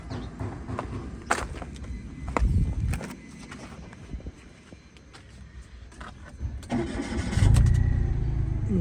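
A car engine cranks and catches, then runs unevenly with a misfire, the engine noise rising loud near the end; faint footsteps and handling sounds are mixed in.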